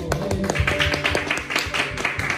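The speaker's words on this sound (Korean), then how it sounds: "우리 박수로" A small church gathering claps to welcome a new student, a close, fairly loud run of individual hand claps with a slightly uneven rhythm that continues throughout, over a faint steady tone and no speech.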